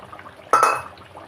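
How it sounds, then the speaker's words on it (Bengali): Fried eggplant pieces dropped into a pot of simmering fish curry with potatoes, giving one sudden sharp splash and sizzle that fades over a fraction of a second, close and alone. "বেগুনগুলো দিয়ে দিলাম ভাজা বেগুনগুলো"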